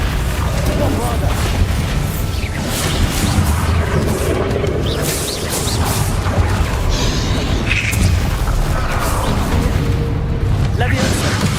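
Spell explosions in the Hogwarts Legacy video game: continuous heavy booms and crashing blasts layered densely over one another, loud and unbroken, with a voice speaking over the combat.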